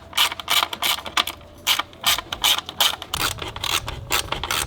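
A ratchet loosening the 8 mm coil pack bolts on a Mazda 3 turbo engine, close up, giving repeated short bursts of rapid clicking with brief pauses between strokes.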